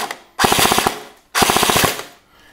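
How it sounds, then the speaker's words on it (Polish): Two rapid full-auto bursts from a Snow Wolf M41A Pulse Rifle airsoft replica, each a quick string of sharp mechanical shots, close and loud, with a short pause between them. "to teraz trudniejszy test, czyli ogień ciągły"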